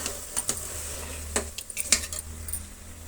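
Rice being mixed in a cooking pot brings a few light metallic clinks and scrapes of a spoon against the pot over a quiet background, sparse and close, with no talk.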